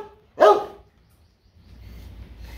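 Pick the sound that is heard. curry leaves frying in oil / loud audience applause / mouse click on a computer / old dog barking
old dog barking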